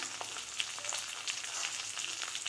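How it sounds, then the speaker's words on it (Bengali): Chopped tomato frying with onion in a pan, a soft continuous sizzle with scattered small pops and spatters, close but fairly quiet, with no talking. "এবারে আমি টমেটো কুচি দিয়ে দিলাম, বড় সাইজের একটা টমেটো কুচি, তার হাফ দিয়ে দিলাম।"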